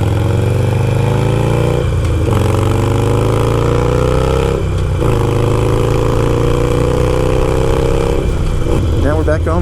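A motorcycle engine is kick-started and then idles nearby. It runs loudly and continuously, with a couple of abrupt shifts in pitch and a brief rev toward the end.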